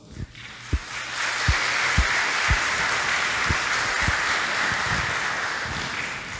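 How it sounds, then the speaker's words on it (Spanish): Congregation applauding at a Lenten Sunday Mass, a broad sustained wash of clapping that swells after a second and holds steady, with a few louder low thumps scattered through it. "démosle un fuerte aplauso"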